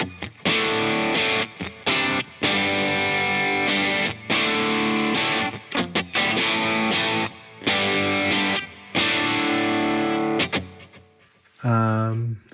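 Electric guitar played through a D&M drive pedal with delay and reverb on, giving loud distorted chords and riffs in bursts separated by short gaps, ending with a brief cleaner bent note, with no talking.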